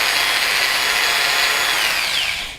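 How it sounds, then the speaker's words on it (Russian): A power drill drives a long T8 lead screw on a Tronxy XY-3 Pro V2 3D printer, a loud, close, steady high whine that holds and then winds down at the end. "Берем дрель, берем длинный винт."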